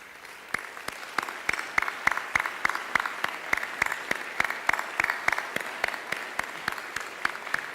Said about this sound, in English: please just stand for a moment so we can give you a round of applause